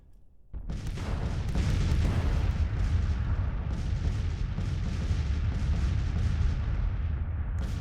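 Artillery fire in a Civil War strategy game set in the Peninsula Campaign, a loud cannon boom opening a sustained roaring barrage of overlapping blasts and rumbling battle noise, dense and continuous with no talking.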